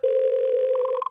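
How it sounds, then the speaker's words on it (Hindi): A telephone call is placed and a steady electronic line tone sounds loud and close for about a second, alone with no voices, before it clicks off. "जालिम सिंह को तुरंत फोन लगाओ"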